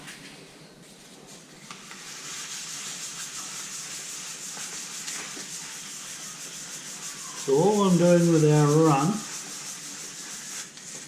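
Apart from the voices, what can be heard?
sanding a primed fuel tank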